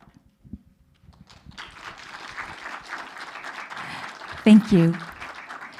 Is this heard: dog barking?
no